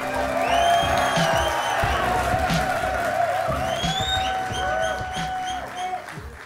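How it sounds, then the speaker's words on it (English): A live audience at a Clash Royale tournament in Helsinki applauds and cheers, a steady roar of clapping and shouts running throughout with tonal music and noise mixed underneath. "Come on, guys, a round of applause."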